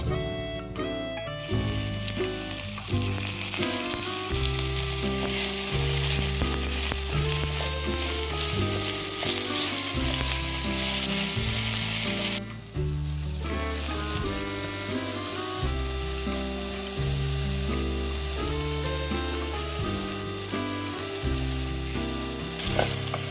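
Chopped onion and two bay leaves fry in hot oil for an egg curry, a steady close sizzle with clattering stirring throughout and a brief dip midway, with musical tones running underneath.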